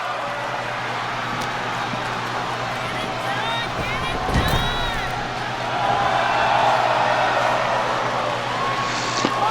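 Wrestling arena crowd at a live match, a steady broad roar of cheering and hubbub that swells louder toward the end, with a sharp thud from the ring in the middle.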